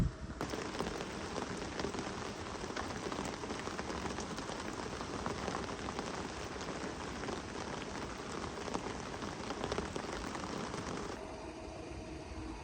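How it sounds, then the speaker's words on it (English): Heavy storm rain drums steadily on a bivvy shelter at a lakeside fishing camp, a dense, continuous hiss and patter that eases slightly near the end, with no voices. "this rain's been a nightmare to set up in as well"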